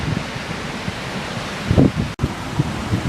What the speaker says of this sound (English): right beneath me is the Devil's Hole Rapids